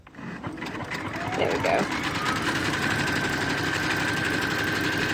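Sewing machine running steadily through knit fabric in a straight run, a continuous close mechanical whir with rapid needle rhythm, under brief speech near the start.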